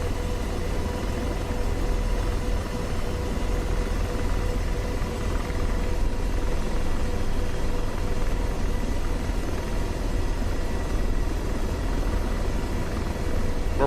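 Apache AH-64D attack helicopter in DCS World flight simulator, a steady, dense rotor thump and turbine roar filling the whole stretch, heavy low rumble with no pauses or talking.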